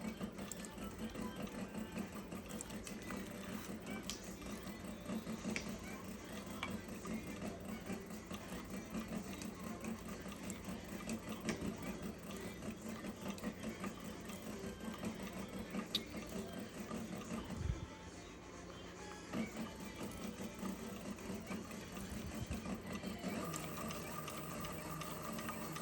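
A Cobra Class 26 sewing machine back-stitches at low speed, giving a quiet, continuous mechanical whirr with faint ticking from the mechanism and a brief dip partway through.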